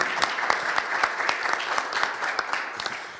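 A conference audience applauds panelists at a student event, a brief, steady burst of crowd clapping with scattered distinct claps.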